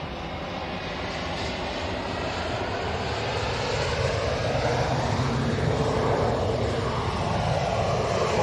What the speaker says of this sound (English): this is the Aer Lingus